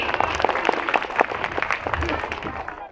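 An audience claps at a school prize ceremony with a dense, fairly close patter of many hands, tapering off toward the end, with voices talking over it.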